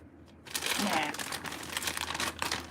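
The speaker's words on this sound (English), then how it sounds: "I got the bag open anyway." Crinkling plastic rustles loudly in bursts, close up, as a bag is pulled and handled, with quieter moments between the crackles.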